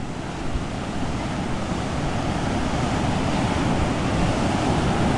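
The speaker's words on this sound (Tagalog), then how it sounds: "malalaki pa rin yung alon" Big waves on a river: continuous rushing water and heavy wave wash, loud and close, mixed with wind noise buffeting the microphone.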